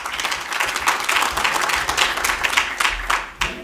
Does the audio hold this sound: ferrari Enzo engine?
no